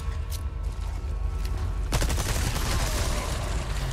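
Resident Evil 4 Remake (Separate Ways) gunfire: loud, dense bursts of shots and rapid automatic fire fill the clip, swelling into a heavier volley about halfway through.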